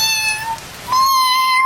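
An orange cat meows twice, a first cry followed by a louder, steadier one, close and clear with no talk over it.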